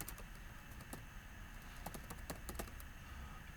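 Typing on a computer keyboard while writing HTML and CSS code, a quiet, steady patter of key clicks with a few sharper strokes, close and soft against faint room hiss, no voices.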